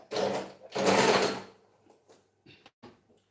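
A sewing machine runs in two close, loud stitching bursts while hemming fabric, then a few short quieter clicks and mechanical taps follow before silence.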